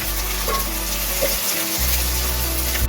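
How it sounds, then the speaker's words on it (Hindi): Garlic and ginger paste frying in a pan, a dense, continuous sizzle close by, with a low hum underneath and faint stirring clinks. "1 टेबलस्पून अदरक पेस्ट और हमने इसको अच्छे से फ्राई करना है।"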